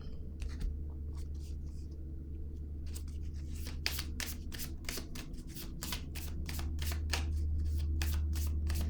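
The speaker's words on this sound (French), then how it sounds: "je vais piger une autre carte ici" Tarot cards are riffled and shuffled by hand in a quiet room, a quick run of crisp flicking bursts building to a steady rapid patter in the second half, close and fairly soft.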